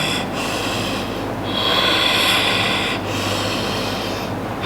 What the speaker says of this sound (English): Take a moment to breathe.